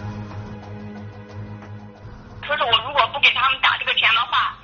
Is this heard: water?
no